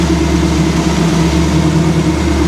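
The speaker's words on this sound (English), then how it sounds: "It idles a little fast." A 1956 Chevy truck engine fitted with a Predator carburetor idles a little fast, holding a steady, even mid-pitched rumble up close with no talking.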